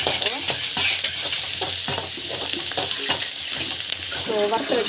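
Turmeric and asafoetida sautéing in hot oil for lemon rice, a steady close sizzle with repeated scraping stir strokes throughout, no talking.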